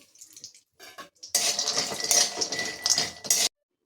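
Almonds are stirred in a little ghee in a kadhai, producing a few light metallic taps and then a dense, close sizzling rattle that continues for a couple of seconds before it stops abruptly.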